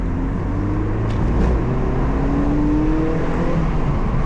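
Mazda MX5 engine pulling in second gear, a steady close-up drone with a slowly rising engine note and heavy low rumble from inside the car.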